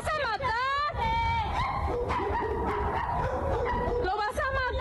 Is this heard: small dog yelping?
yes